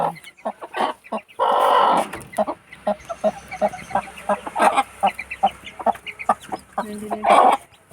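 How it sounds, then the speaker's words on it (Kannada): A hen clucks repeatedly at close range in short, uneven bursts, with a few louder squawks and soft chick peeps in between. "ನೋಡಿ ಇಲ್ಲಿ ಕೋಳಿ ನಮ್ಮನೆದು ಒಂದು ಮರಿ ತೆಗೆದಿದೆ"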